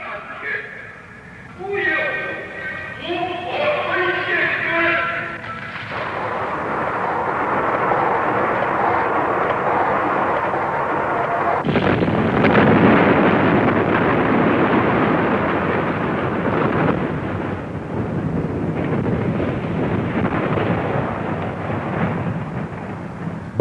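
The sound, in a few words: nuclear weapon detonation explosion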